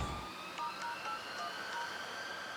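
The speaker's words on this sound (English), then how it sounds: "Why is it like a phone dial-up sound?" Electronic beeping tones from the Knight Rider car cosmetic in the Fortnite video game, a short run of dial-up-like pitched blips repeating over a steady synthetic background at moderate level.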